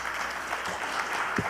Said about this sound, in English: Round of applause for the ambassador.